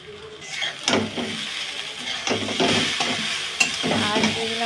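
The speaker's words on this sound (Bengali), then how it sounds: "এবার দিয়ে ভালো করে নেড়ে চেড়ে নেব" Chow mein noodles stirred and tossed in a hot pan with soy and tomato sauce, a steady sizzle broken by repeated scraping strokes of the spatula, close and loud.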